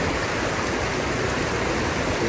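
River stream flowing steadily, a continuous broadband rush of water, loud and close with no other sounds.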